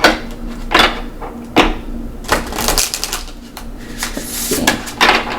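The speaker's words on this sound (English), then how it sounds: "We're gonna see how this shuffles really quickly." A glossy Mabon oracle card deck from the Season of the Witch line is shuffled by hand, giving quick riffling bursts and crisp card snaps in an irregular rhythm, close and fairly loud.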